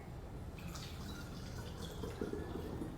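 Water pouring through a funnel into a glass bottle, a steady trickling, dripping flow with faint splashy detail, close and fairly quiet throughout.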